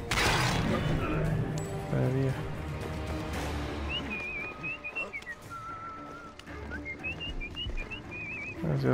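Melodic whistling in Assassin's Creed Origins, a wavering tune of short rising and falling notes over game music and ambience, with a person talking intermittently.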